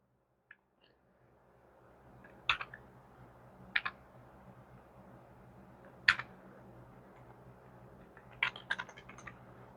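A computer keyboard typed on in a few sparse, separate clicky key presses and short bursts, quiet and close over a low background hum, with no talk.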